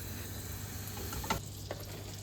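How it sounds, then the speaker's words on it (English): Pear cubes caramelize in butter in a pan, giving a faint steady sizzle close by with a few light clicks of stirring. "I put some butter into a pan and add our pear"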